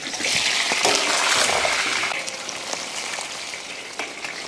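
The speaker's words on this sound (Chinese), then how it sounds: "油温升热，再次下锅。" Fried skewers go back into reheated oil for a second deep-fry, producing a loud, rushing bubbling hiss that is strongest at first and then eases into a softer, steady crackle.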